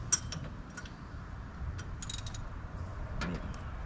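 A wrench works loose a bolt while an NB Miata is taken apart, giving faint intermittent ratcheting clicks and metallic ticks over a low steady background hum.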